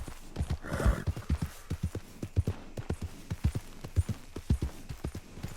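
Hooves clip-clop steadily from a horse ridden at a walk in the video game Red Dead Redemption 2, with a brief whinny early on and no talk over the rhythmic, close, moderately loud beats.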